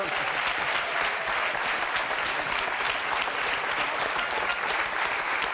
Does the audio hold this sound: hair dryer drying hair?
no